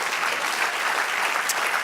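Church congregation applauding together in praise during a Spanish-language sermon, a dense, sustained clatter of many clapping hands at close range, steady throughout with no voices standing out.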